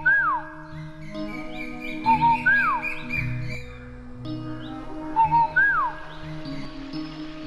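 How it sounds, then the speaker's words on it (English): A nightingale's song in an animated fairy tale set in China: clear, repeated whistled swoops and chirps recurring every couple of seconds over soft, sustained musical backing. "A long time ago, there lived in China a little nightingale who sang"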